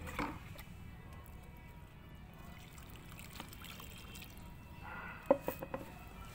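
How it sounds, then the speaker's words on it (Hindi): Water poured in a thin trickle over freshly planted garlic cloves covered with soil, a faint, steady dribble with a few soft drips near the end. "और इनमें थोड़ा सा डाल देंगे पानी।"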